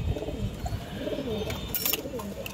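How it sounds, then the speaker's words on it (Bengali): Caged pigeons of a paired line breed at a pigeon market coo in repeated low, rolling phrases, close and steady, with faint chirps from other birds in the background. "এগুলো পাল্লা বা সারাসারি লাইনের কবুতর"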